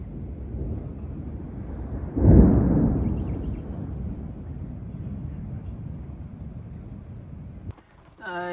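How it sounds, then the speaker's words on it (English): A deep, loud rumble of thunder rolls in and slowly fades against steady outdoor background noise. "I hope you can hear that thunder because it's really very loud"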